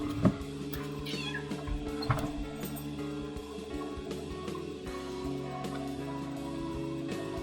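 A cartoon cat in a video game meows a few times near the start, short and clear over a steady looping game music background, with no talking.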